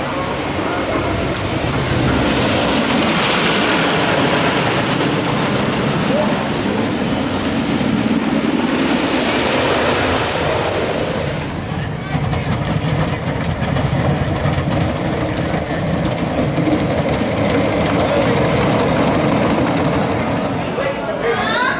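Ride on Wildcat, a wooden roller coaster at Lake Compounce running Millennium Flyer trains, with a loud, continuous rumble and clatter of the train on track, heavy wind roar and riders' voices mixed in throughout.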